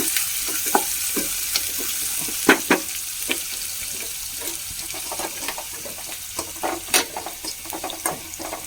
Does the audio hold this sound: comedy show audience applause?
no